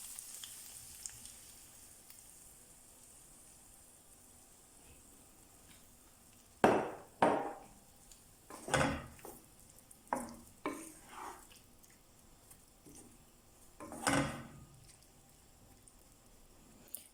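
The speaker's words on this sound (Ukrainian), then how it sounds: "Перемішуємо все та жаримо з однієї сторони до рум'яності" Egg mixture with cauliflower frying in a pan gives a soft, low sizzle, broken by several louder scraping stirs in the second half.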